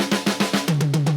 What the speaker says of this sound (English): It's a very big and loud and over-the-top drum loop,